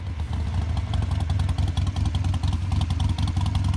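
Harley-Davidson Sportster Super Low 1200T motorcycle engine running steadily with a deep, loud, lumpy idle and rapid clattering pulses throughout.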